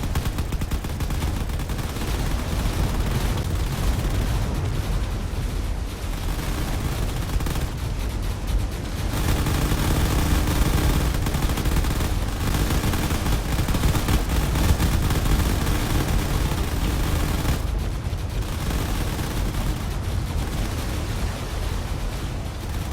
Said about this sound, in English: all these turrets are focusing on the fighters above